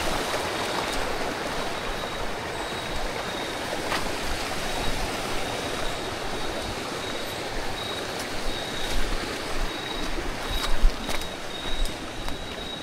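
A steady, full rush of a mountain jungle river fills the whole stretch, with occasional louder splashes and gurgles close by.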